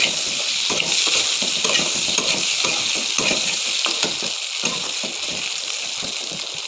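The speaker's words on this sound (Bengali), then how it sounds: "আমি আলুগুলো ভাজি করে নিচ্ছি।" Potatoes seasoned with salt and turmeric fry in hot oil in a wok, a loud, dense, steady sizzle broken by frequent scraping and clattering strokes of stirring, close and without any talk.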